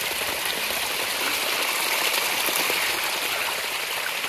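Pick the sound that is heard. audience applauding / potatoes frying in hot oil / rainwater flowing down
rainwater flowing down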